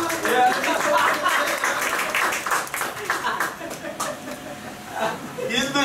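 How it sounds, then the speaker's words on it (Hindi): Applause from a congregation at a sermon gathering in Kisan Nagar, honouring an Indian woman world boxing champion. Sustained, dense clapping runs through the whole stretch, mixed with voices. "तालियां"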